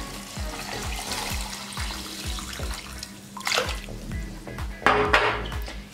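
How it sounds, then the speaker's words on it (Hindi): Water pours into a blending jug holding falsa berries, sugar and salt, a close, splashing stream that grows louder and gurgles near the end. "पानी डाल देंगे,"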